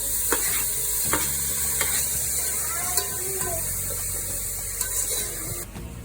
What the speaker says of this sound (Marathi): आपण आपला टोमॅटो जो आहे ना तो चांगला परतून घेऊया